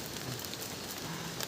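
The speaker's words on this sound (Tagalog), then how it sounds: "So nabutan na tayo ng ulan." Rain falling outdoors, a steady wash of patter and drips with no break, fairly faint and continuous with no voices over it.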